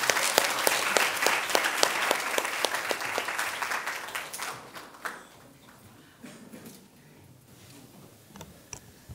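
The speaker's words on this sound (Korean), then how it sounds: "큰 박수 부탁드리겠습니다" Applause from an audience at a Seoul National University presentation competition closing ceremony, greeting the judges: dense clapping with sharp individual claps, loud at first, then thinning and fading to scattered claps.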